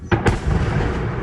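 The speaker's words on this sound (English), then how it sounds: "the drone getting shot down" A drone is shot down over a neighborhood in two sharp, loud blasts close together, followed by a sustained rumbling roar.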